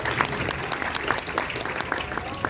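An audience at a book launch applauds a guest, with steady, moderately loud clapping running throughout and a few sharper claps standing out.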